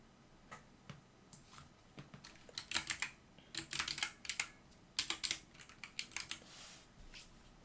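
Text is typed on a computer keyboard, with quick clusters of light plastic key clicks coming in uneven bursts that grow denser midway, close and moderately loud, with no speech.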